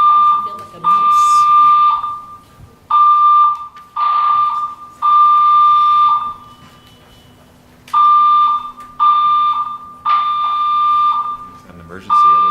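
A building fire alarm blares through a public hearing room in loud, pulsing electronic bursts separated by brief pauses, one longer gap midway, while people talk beneath it.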